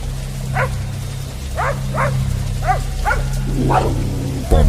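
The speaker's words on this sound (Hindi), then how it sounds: "भौंकने और रोने की आवाजें" A dog barks in a string of short yips and whines, several sharp calls spaced across a few seconds over a steady low hum.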